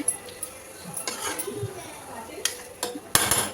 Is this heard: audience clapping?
no